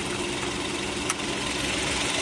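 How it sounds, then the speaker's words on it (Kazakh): A 2012 Hyundai Grandeur HG with a 3-litre GDI petrol engine idling, a steady, even hum with one faint tick partway through. "GDI мотор 3 куб, қазір оталдырдық, моторы"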